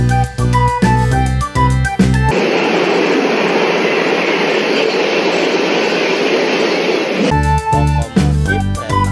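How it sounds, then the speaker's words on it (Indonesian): A toy express train locomotive rumbles past with rhythmic clattering, framed by bursts of a tinkling melody at the start and end. "Lokomotif kereta"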